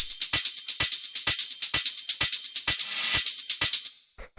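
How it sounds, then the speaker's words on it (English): Layered hi-hats from a Drumcode-style techno beat tick out in a quick, steady pattern of crisp, bright hits, loud and alone, closing with a couple of scattered strikes as the loop fades. "After that, we have the hi-hats, which altogether sound like this."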